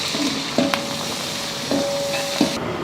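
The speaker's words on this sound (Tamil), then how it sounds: "பட்டை கிராம்பு பொரிஞ்சதுமே வெங்காயம் அரை கிலோ சேர்த்துக்கிறேன்" Sliced onions and green chillies fry in hot oil with cinnamon and cloves for a large home-cooked biryani, a loud continuous sizzle broken by a few stirring clunks, with a thin steady whistling tone running alongside.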